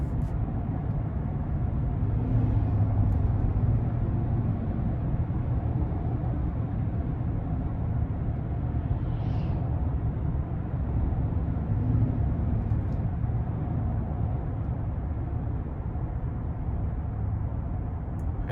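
A 2022 Chevrolet Silverado 1500 LTZ pickup rolling on thicker tires and 20-inch wheels gives a steady, even drone of road and engine noise inside the cab, constant throughout with no talk.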